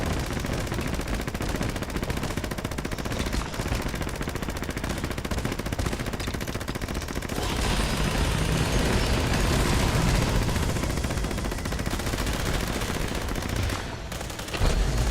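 Rapid sustained automatic gunfire in the Fallout 76 video game, a dense continuous burst of shots at an enemy that stays loud and close throughout with brief pauses.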